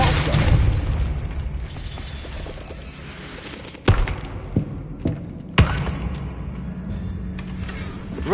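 A Depulso blast spell in Hogwarts Legacy, heavy booming thuds with sharp bursts, two loud hits standing out among rumbling low effects.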